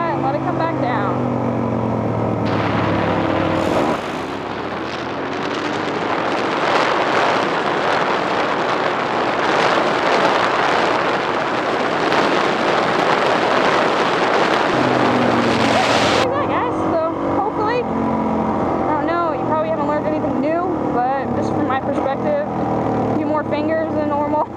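Motorcycle engine revs hard as the rider lifts into a wheelie, a rising, buzzing roar that surges and holds loud before falling back, with heavy wind rush and a voice talking over it.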